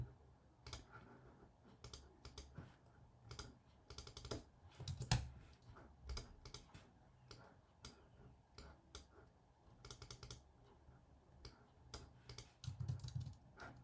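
Light clicks from a computer keyboard as someone types code for a React text counter, coming in irregular bursts with pauses between, quiet and close.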